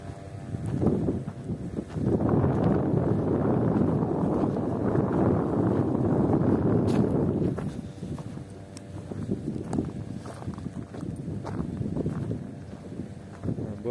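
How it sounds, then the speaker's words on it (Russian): Wind blows at a lakeshore in Kachkanar, buffeting the microphone in a strong, rumbling gust for several seconds, then easing to a lighter, uneven breeze. "Да, ветер усилился, поэтому будем снимать вот так вот, поближе"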